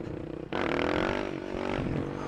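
A supermoto motorcycle bursts into a loud, close engine roar as it pulls up into a wheelie, the revving holding strong and rough for about two seconds.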